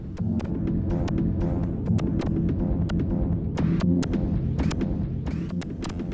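Layered synthesizer drone with a dense, throbbing low hum, used as an ambient noise bed, steady and loud throughout, with sharp percussive clicks and bursts scattered on top.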